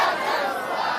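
A crowd at a Jan Suraaj political rally chants a slogan in unison, a loud, dense roar of many voices that fills the whole moment.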